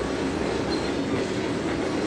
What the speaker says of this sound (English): there's a train blocking your only way out of town